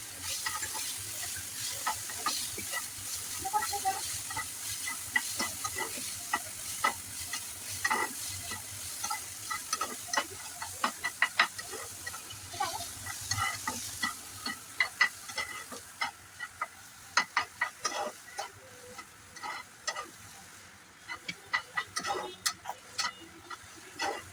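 Boiled, oiled noodles are stirred and tossed in a hot pan, with a soft, steady sizzle under frequent scraping and clinking of a spatula in an irregular rhythm, growing busier toward the end.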